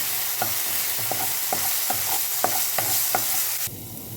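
Ginger, garlic and green chili sizzling in a hot pan, stirred with a spoon that scrapes in a steady rhythm of about eight close, clear strokes over the constant frying hiss, with no voices.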